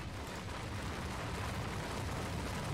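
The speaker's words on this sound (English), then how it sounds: "Unlike an aerial bombing, there's no brilliant burst of flame to accompany the powerful sound of the blast." A blast sound effect from the visual novel The Fruit of Grisaia, a loud, sustained roaring rumble that fills the whole stretch with dense, steady noise and no voices.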